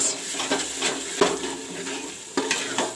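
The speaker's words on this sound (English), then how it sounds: "I will brown this ginger, garlic and green chili paste a little bit" Ginger, garlic and green chili paste sizzles and browns in a pan for mutton curry, with a spoon scraping and stirring repeatedly in a steady rhythm over the frying hiss.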